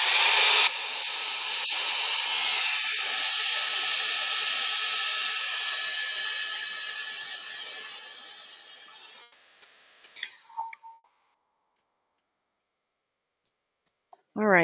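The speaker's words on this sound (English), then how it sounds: "I'm just gonna zap this with a heat gun so I'm not pulling a lot of this orange and red." A heat gun drying acrylic paint on a canvas runs as a loud, steady blowing hiss for about nine seconds, then cuts off, leaving a few faint clicks and near silence.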